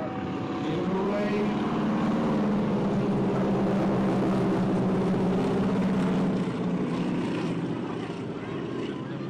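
Boeing Stearman biplane engine droning steadily at an airshow in Ayr, Scotland, a loud continuous rumbling radial engine roar with shifting propeller tone that eases slightly toward the end.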